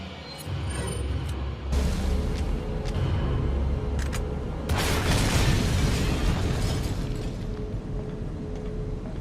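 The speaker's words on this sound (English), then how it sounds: "By the end of this battle I was so frustrated that I shoot a rocket launcher to his face." A rocket launcher fired at a boss in Resident Evil 4 gives a loud blast and booming burst, followed by a sustained rumbling explosion with crackling debris over dense game noise.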